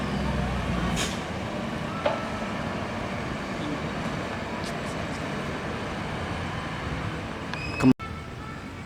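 A Scania bus pulls in at a terminal at night with a steady low engine rumble over background traffic, a short toot near two seconds and a loud sharp air-brake hiss near the end.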